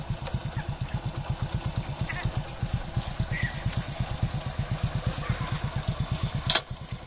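A motorcycle engine runs steadily nearby with a regular low pulsing throb and occasional rev swells, as a rider is being taught to ride, with faint voices in the background.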